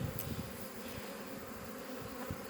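Honey bees hum steadily around an open hive with frames of pollen, brood and honey stores, a soft continuous drone with no talking.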